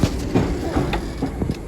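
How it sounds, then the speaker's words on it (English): Loud, rattling interior of a Merseyrail class 507/508 electric train on the move: a steady low rumble broken by repeated clacks and knocks throughout, with no voices. "These trains are very loud, but I think it's quite nice."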